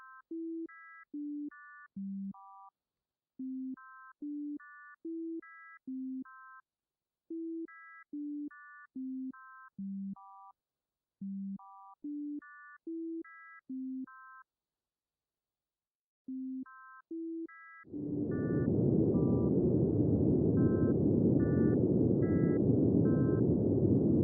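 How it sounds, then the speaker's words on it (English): A simple melody of pure beeping tones plays alone, then repeats as a loud, steady hiss of broadband noise, first low-frequency and then high-frequency, rises up and partly covers it. "The melody will play 2 more times, one time with low frequency noise, and the next with high frequency noise."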